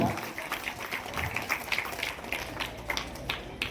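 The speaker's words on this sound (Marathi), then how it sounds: "जोरदार टाळ्या वाजवायचे सर्वांसाठी जरा." An audience at a high school annual gathering claps in scattered, uneven bursts throughout, a voice talking over the applause.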